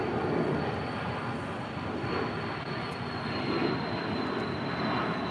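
A Dassault Falcon 900EX business jet departs LAX, a steady, broad engine roar heard from a distance with a high whine running through it, no voices.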